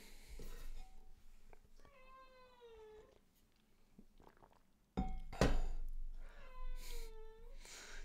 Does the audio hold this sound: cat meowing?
yes